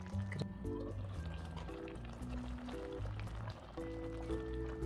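Braised aged kimchi stew simmers in a pot with soft bubbling and dripping liquid sounds. The bubbling is quiet and sits under a gentle melodic background tune.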